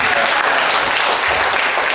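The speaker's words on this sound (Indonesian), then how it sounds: "mari kita beri tepuk tangan" An audience at a healthcare facility accreditation event breaks into applause, a short burst of dense, even clapping from a crowd filling the room throughout.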